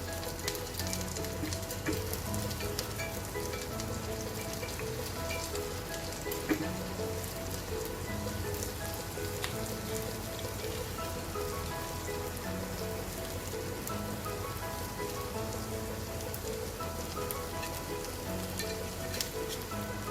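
A crispy breakfast snack fries in a pan over a medium flame after being turned over, giving a steady, even crackling sizzle that continues unbroken throughout at a moderate level, with no talking.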